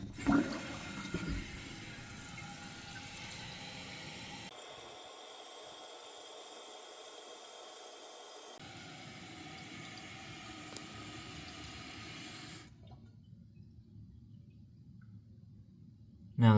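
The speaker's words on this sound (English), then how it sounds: "Then we can go ahead and turn the water back on and let it fill up." Water rushes into a toilet tank after a new flapper is fitted and the supply is turned back on, a steady hissing fill that shifts tone midway, then drops to a quiet trickle near the end.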